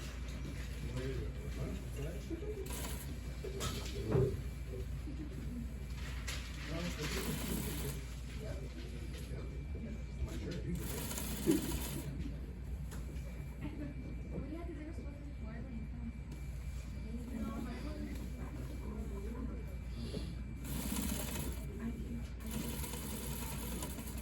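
An overlocker runs through fabric in several sustained whirring bursts over a steady low background hum, with a person talking quietly at times.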